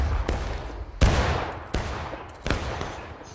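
Rifle volleys crack out in the video game War of Rights, four loud, separate shots or ragged volleys spaced about a second apart, each trailing off into a rolling echo across the battlefield.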